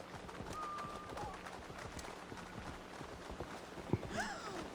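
Rapid rhythmic hoof clip-clops from a pawed mount in Assassin's Creed Valhalla: Wrath of the Druids patter steadily, with a brief tonal whistle early and a short sliding call near the end.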